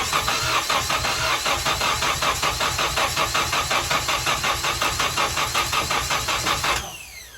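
A Ford KA-T car engine with a bad distributor cranks over with a steady rhythmic chugging of the starter for nearly seven seconds, loud and close, then cuts off abruptly into near silence.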